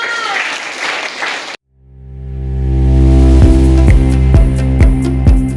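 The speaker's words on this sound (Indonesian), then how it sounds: "Aplaus untuk kita semua." A short burst of applause lasting about a second and a half cuts off abruptly, then a swelling musical tone with rhythmic beats follows.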